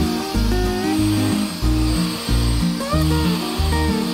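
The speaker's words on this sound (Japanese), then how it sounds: "もちろん掃除機の音は大嫌い。" A vacuum cleaner drones steadily nearby in a room with a Maine Coon cat, its broad whooshing hum running throughout beneath music with stepping bass notes.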